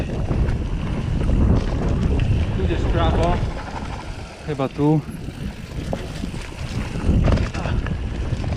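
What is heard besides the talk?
wind blowing into microphone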